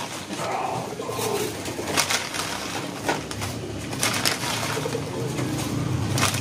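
Pigeons cooing as they come down to feed, soft repeated low coos mixed with rustling and wing flaps, close and moderately loud.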